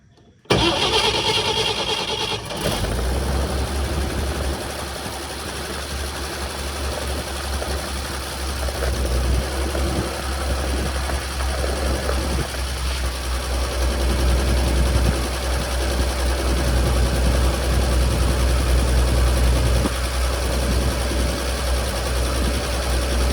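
An old 1950 Chevrolet 4400 dump truck engine cranks briefly, catches, then settles into a steady, loud low rumble of idling that runs without a break.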